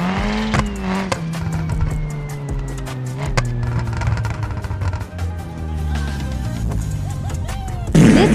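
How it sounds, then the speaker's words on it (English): A Hyundai i20 driving in BeamNG.drive, engine droning and shifting pitch under loud clattering impacts and crunches, ending in a sharp burst of noise. "Our first car is going to be Hyundai i20."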